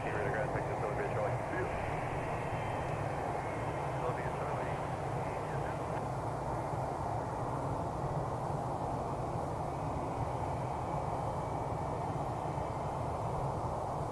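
A jet airplane taxiing at Reno airport, a steady low engine rumble and whine held far off for the whole stretch, with radio chatter and a voice over the top.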